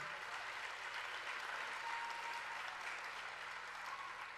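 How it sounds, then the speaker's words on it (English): Thousands of concertgoers applaud at a symphony orchestra performance, a broad, continuous roar of clapping heard from a distance and fairly faint, holding evenly for several seconds. "I wasn't even fishing for the applause"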